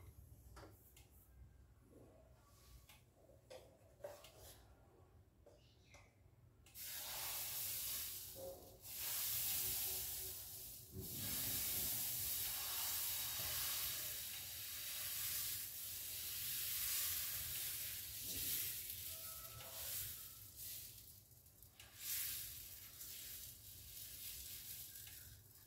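Oats dosa batter sizzles on a hot pan, a faint hiss at first that swells into a steady, fairly loud sizzle running for about twenty seconds, with no talking.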